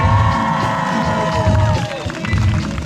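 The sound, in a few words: festival crowd applauding and cheering at opening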